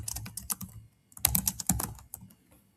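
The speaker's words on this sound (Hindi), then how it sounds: "यहाँ पे वो कुछ भी नोट्स लिखेगी और सेव के बटन पे क्लिक करेगी" Rapid clicking of keys as notes are typed on a computer keyboard in a nursing software menu, two quick bursts of close, crisp keystrokes separated by a short pause, with no talking.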